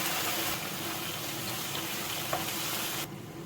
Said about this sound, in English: Add a little bit of water to help it mix around and then give it a stir.